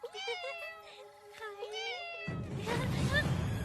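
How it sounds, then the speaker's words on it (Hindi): A cat meows several times in drawn-out, wavering cries up close, then the meowing gives way to a sudden burst of louder, noisy background sound. "दूसरी बिल्ली।"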